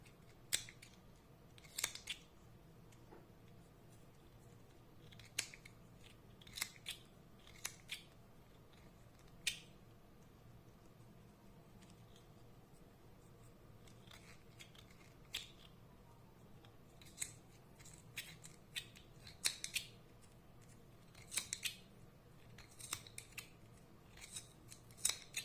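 Scissors snip through yarn wound on a pompom-making tool, giving sharp, quiet, irregular cuts in short bursts over a faint background, with no talk.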